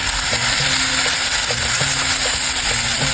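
Pieces of korali fish fry in a hot pan, a steady dense sizzle running throughout with faint periodic ticks and small pops, close and loud with no talking.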